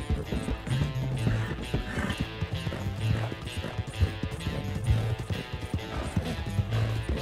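Horse galloping in a video game, with steady clip-clop hoofbeats running throughout over a busy game soundscape, loud and continuous.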